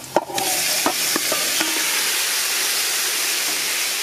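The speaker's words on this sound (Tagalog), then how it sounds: "Ibubuhos na natin yung ating bulalo." Bulalo broth is poured into a pan of sautéed garlic, ginger and onion, with a few clinks and splashes, then a loud, steady sizzle and hiss that holds close up.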